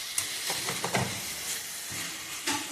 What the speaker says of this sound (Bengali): এখন আলুটা একটু কষে যাবে এটার সাথে।